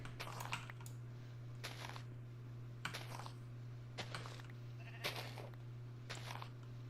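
Sheep in the Minecraft video game bleat five times at regular intervals over a steady low hum, with faint clicking like keyboard typing underneath.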